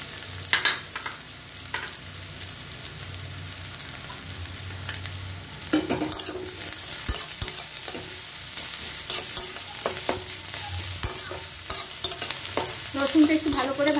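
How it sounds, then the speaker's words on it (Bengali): Chopped garlic frying with onions in a spiced oil, a continuous close sizzle with frequent spoon scrapes and knocks against the pan as it is stirred, no voices. "এবার আমি এর মধ্যে রসুন কুচিটা দিয়ে দিচ্ছি।"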